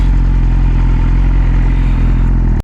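A BMW S1000 RR motorcycle engine runs loud and close, holding a steady, dense rumble for the whole stretch without any clear revs or gaps.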